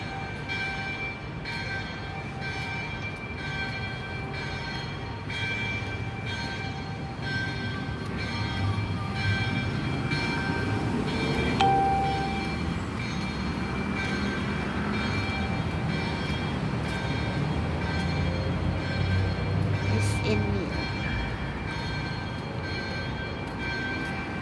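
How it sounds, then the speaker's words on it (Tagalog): A church bell rings near Dhoby Ghaut MRT station. Its sustained, overlapping tones hang over a low rumble of city traffic and rail noise, sounding at a middling distance. "Tumutunog na ang kampana sa simbahan."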